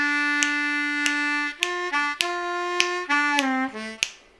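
Blues harmonica lick on a G harmonica, playing the Wade in the Water melody: a string of sustained, reedy notes that step up and down in pitch with sharp attacks, close and clear, with no voice.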